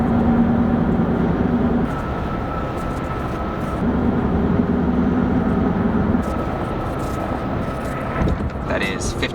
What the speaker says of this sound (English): That is how quiet these Hankook tires are.